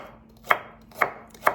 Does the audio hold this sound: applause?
no